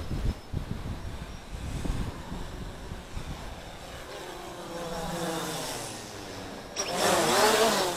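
A stripped-down Bayangtoys X16 toy quadcopter drone fitted with 9450 props flies a stunt flight, its motors giving a loud, rising and falling buzzing whine that surges sharply near the end.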